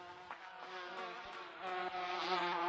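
Bees at a hive in the Gorilla Tag video game make a steady, close, high-pitched electronic buzz that wavers in pitch and grows slightly louder toward the end, with no voices.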